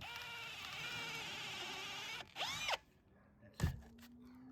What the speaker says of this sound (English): that's where I need to drill.